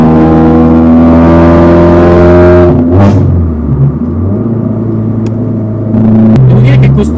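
A newly built car's engine revs loudly with a deep, rich harmonic drone, drops sharply as the throttle closes, then idles with a low burble before picking up again.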